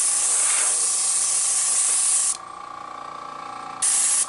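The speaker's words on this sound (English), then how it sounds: "do a test spray." A steady airbrush-style paint spray hisses for about two seconds while painting a fishing lure, stops briefly with a quieter hum underneath, then bursts again for a short spray.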